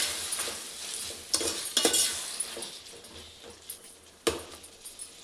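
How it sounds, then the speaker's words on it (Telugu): Tomatoes stirred into a drumstick and dry prawn curry in a pan, soft sizzling beneath intermittent scraping and clinking of a spoon, with a few sharper knocks against the pan. "టమాటాస్ కూడా యాడ్ చేసుకొని బాగా కలుపుకుందాం."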